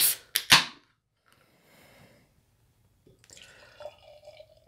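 A can of Other Half Triple Nelson Daydream triple IPA cracks open with a few sharp pops, then a quiet pause before beer pours with a fizzing, gurgling rush, close by and without talk.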